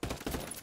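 Rapid bursts of gunfire crackle from a Ghost Recon Ghost War match, a short dense volley of overlapping shots.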